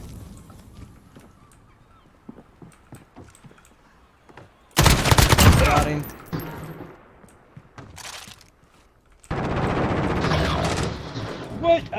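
Gunfire in a shooter video game: faint scattered pops early on, then a loud burst of rapid shots, a pause, and another sustained volley near the end.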